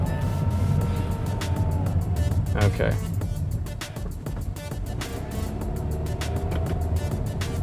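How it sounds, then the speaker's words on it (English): A 2022 Perodua Myvi AV car engine revs climbing under engine braking in B mode, a steady loud drone from inside the cabin, with a person speaking briefly over it. "the B button is engine braking and just climbs the revs up"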